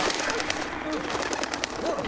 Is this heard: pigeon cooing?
yes